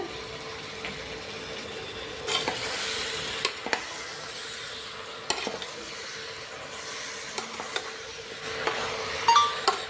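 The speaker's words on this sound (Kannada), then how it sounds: "ಅದಕ್ಕೆ ಸ್ವಲ್ಪ ಉಪ್ಪನ್ನು ಹಾಕಿ 1 ನಿಮಿಷ ಫ್ರೈ ಮಾಡ್ತೇನೆ" Chicken pieces with salt frying in a pan for a masala chicken curry, a soft continuous sizzle broken by sharp scraping stirs and clinks of a spoon against the pan at irregular intervals.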